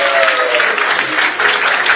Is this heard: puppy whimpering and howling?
no